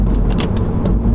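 A MINI Challenge 210 fitted with a JCW Pro exhaust rumbles loudly and close by, a deep steady engine drone with faint pops on top and no voices.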